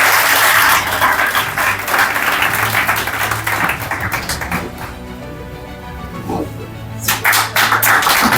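Crowd at a student awards ceremony and poetry gathering applauds a humorous poet, with loud, close clapping that thins midway to scattered claps before swelling again, over a low steady hum.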